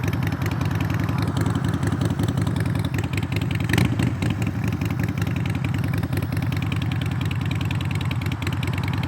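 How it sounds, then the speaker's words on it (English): A motorcycle engine idles steadily close by, a constant low rumbling putter with a faint clatter, running unbroken throughout. "So what you hear is not the bike, it's a motorcycle next to me."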